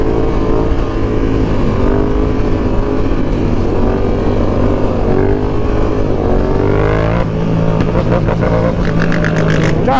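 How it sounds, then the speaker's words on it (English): A Yamaha R7 motorcycle engine roars steadily and loudly throughout wheelies, with the pitch rising and revving harder near the end. "What do y'all think about my wheelies on an R7, huh?"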